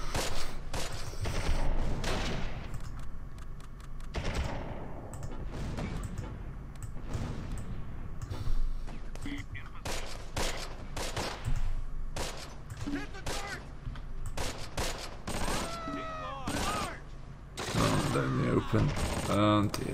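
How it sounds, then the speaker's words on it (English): Rapid machine gun fire and scattered rifle shots in the Close Combat war game, popping in irregular bursts throughout at moderate distance, with people talking over the gunfire. "That's a machine gun."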